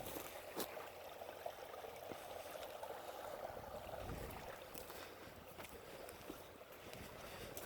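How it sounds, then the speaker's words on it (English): A garden hose trickling water into a barrel outdoors, a faint, steady wash of running water with occasional small splashes and drips. "And then I'll turn it back on just a little so it just drips."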